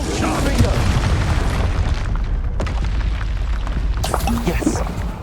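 Spell blasts and booming explosions from combat in the Hogwarts Legacy video game, a dense continuous barrage of impacts over rumbling game noise while a voice shouts spell names throughout.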